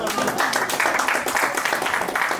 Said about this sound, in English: Please, can you clap for them?